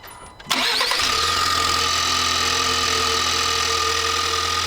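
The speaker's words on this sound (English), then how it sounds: "It kind of sounds like an old turbo diesel engine." A 2024 Ford Maverick Tremor with the 2-liter EcoBoost engine cranks and fires after a short starter whir, then settles into a loud, steady, slightly rattly idle with a low drone that runs on alone.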